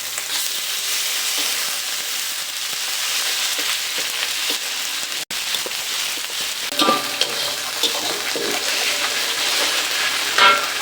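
Onion with ginger and garlic paste fries in a pan with a bright, crackling sizzle that holds steady at close range, broken only by a brief gap midway.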